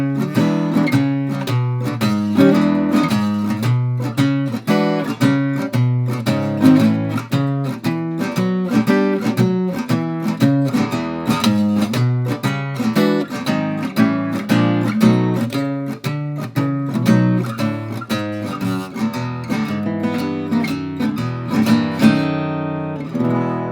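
An acoustic guitar plays a 12-bar blues in E in fingerstyle, with a busy alternating bass under plucked melody and chord stabs, loud and steady for over twenty seconds with no talking.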